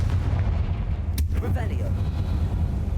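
A Confringo explosion spell cast in Hogwarts Legacy gives one sharp burst near the middle, then a rumbling decay over a constant low game-ambience drone.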